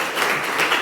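A classroom of students claps for a classmate who has just answered a question, a steady wash of applause holding at an even level for its whole short length.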